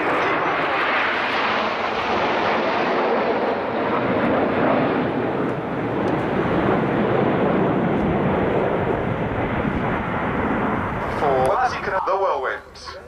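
Red Arrows, the Royal Air Force display team, jets passing at the Royal International Air Tattoo 2011, a loud, sustained roaring jet engine wash that swells and slowly fades, with a voice briefly audible near the end.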